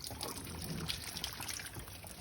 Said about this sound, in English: the water will flow out of the bottom one